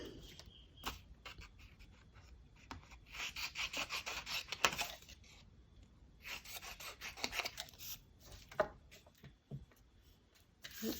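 Scissors cut through a photo in short rasping snips, clustered bursts with brief pauses between, heard close and fairly quiet with no talking.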